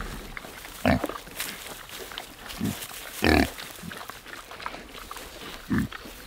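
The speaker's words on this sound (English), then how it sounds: "I want to see the pigs fight." Pigs on a farm grunt and squeal in several short, loud bursts spaced a few seconds apart, with quieter snuffling and shuffling between them.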